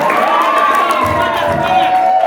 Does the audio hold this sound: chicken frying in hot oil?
no